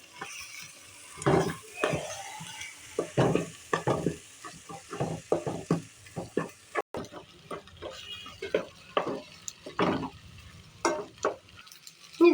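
Macaroni stirred and mixed in a pan with a spoon, a run of close, repeated scraping and clinking strokes over a faint sizzle, steady for the whole stretch.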